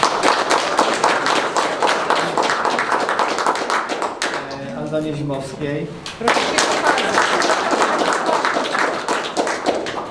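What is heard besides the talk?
audience applause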